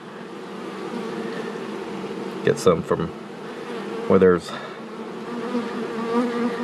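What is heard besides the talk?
honey bees buzzing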